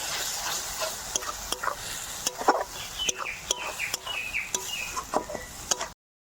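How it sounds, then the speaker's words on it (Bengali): Salt, turmeric and spices are stirred and fried in a pan for a fish curry, with irregular scraping clicks and light sizzling close by and no one talking. "মশলা আমি খুব ভালো করে কষিয়ে নেব।"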